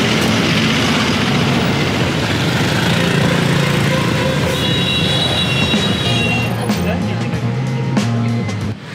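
Loud street traffic in Hanoi with a rumbling engine and a passing train, a horn-like tone rising above the din near the end.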